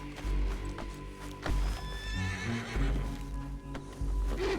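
A horse in the video game Red Dead Redemption II neighs and whinnies loudly and close, alongside clip-clopping hooves and a low steady background hum, with no talking.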